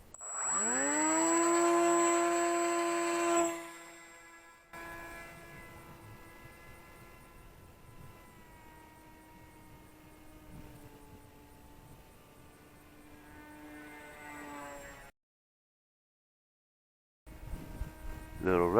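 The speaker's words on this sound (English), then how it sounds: "let's get another flight on the Ranger G2" A Volantex Ranger G2 RC airplane with 1200mm wings whines with a high electric motor tone that rises, then drops and drones steadily in flight, cuts out briefly, then returns.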